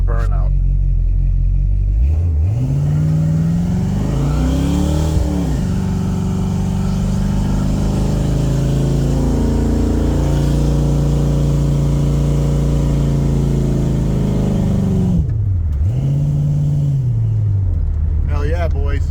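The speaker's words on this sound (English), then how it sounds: "We're gonna do a burnout." A rough 1970s-style Pontiac LeMans with a 400 V8 does a burnout in Mexico, its loud engine revving up and holding a steady roar for many seconds before dropping and revving again, with voices talking over it.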